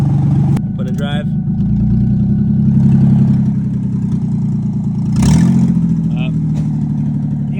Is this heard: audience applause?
no